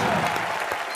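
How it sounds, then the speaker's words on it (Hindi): Studio audience applause on the Comedy Nights show, a dense wash of clapping that holds steady and loud through the whole second, with no talk over it. "जोरदार तालियां कॉमेडी नाइट्स के लिए."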